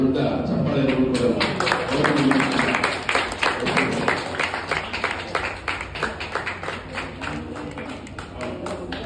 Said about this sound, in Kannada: ಅವರಿಗೆ ಒಂದು ದೊಡ್ಡ ಚಪ್ಪಾಳೆ ಕೊಡೋಣ.